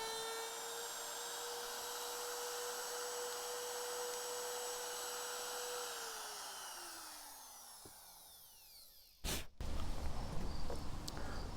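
A Makita 3709 router fitted in a plunge base runs steadily with a high, whining motor tone. The whine then spins down and fades, and a sharp knock is followed by brief rustling handling noise.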